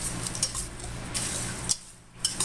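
Dry cream of mushroom soup mix ingredients being stirred together in a bowl, with a close, continuous scraping and clinking of a utensil against the bowl that briefly pauses and resumes.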